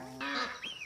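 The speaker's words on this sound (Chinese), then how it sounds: "看一下鹅。" Geese on a farm honk in a single short call with a second rising note, close and moderately loud against a quiet outdoor background.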